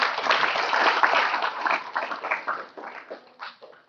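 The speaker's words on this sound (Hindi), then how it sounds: "सब तालियां बजाइए।" An audience claps at a Nityananda Trayodashi festival gathering in Vrindavan: dense, close applause that gradually thins into scattered, uneven claps and fades out over four seconds.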